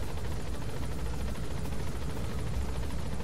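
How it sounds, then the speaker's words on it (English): Steady, loud rotor drone and engine rumble of a helicopter ride in the video game Metal Gear Solid V: The Phantom Pain, a continuous unbroken roar with no voices. "Oh my god, this helicopter ride takes forever."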